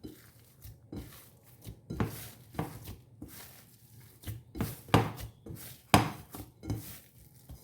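Bread dough is punched down and kneaded by hand, making a series of soft, dull thumps and squishes in an irregular rhythm, close and fairly quiet.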